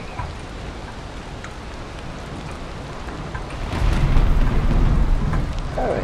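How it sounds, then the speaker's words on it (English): Rain falls in the video game Valheim, a continuous wash of noise that swells louder with a low rumble midway, under faint game sounds. "Even while it's raining."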